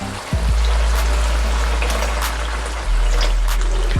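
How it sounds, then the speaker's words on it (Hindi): Water poured into a pot of black chana gravy: a continuous splashing, gurgling pour, close and loud, with a low steady hum underneath that briefly drops out near the end. "तो अब थोड़ा सा पानी लगा देते हैं।"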